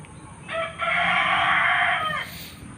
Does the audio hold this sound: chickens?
yes